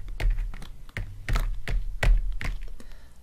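Gloved fingertips in latex gloves tap close up in a quick, irregular series of crisp, dull taps, about a dozen across a few seconds, with nothing else heard.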